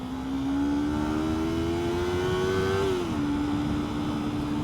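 A Yamaha R3 motorcycle engine drones steadily and close up. Its pitch climbs gradually as it accelerates, then dips slightly near the end and holds.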